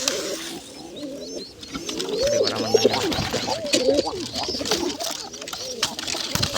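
Pigeons and their chicks coo repeatedly at close range, throaty rolling calls overlapping in irregular bursts, with faint chirps and a voice speaking softly in the background.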